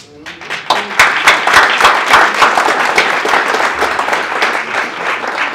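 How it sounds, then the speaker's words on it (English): An audience at a Martin Luther King Day 2015 event at Northern Arizona University breaks into loud, dense applause that swells quickly and then holds with a slight fade. "So for that, you should be applauded."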